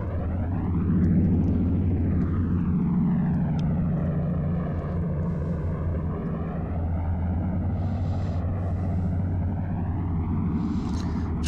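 Vickers Wellington bomber propeller engines throttling down on approach, a steady droning rumble with a slowly wavering pitch that sweeps down and back up, loud and continuous with no talk.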